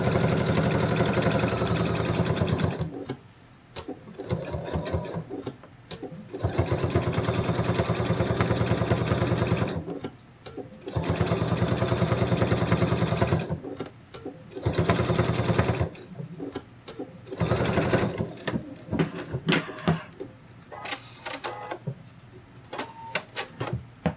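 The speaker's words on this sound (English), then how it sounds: "just place two pieces of your wing right side together and sew all the way around." A sewing machine stitches two plush flamingo wing pieces together in repeated whirring runs of a few seconds each, broken by short pauses, with faint clicks and handling noise in the gaps.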